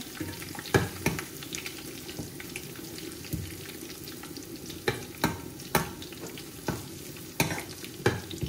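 Onion and garlic fry in oil in a pan for a green bean and shrimp curry, a soft steady sizzle broken by occasional sharp clicks of a stirring utensil, heard up close.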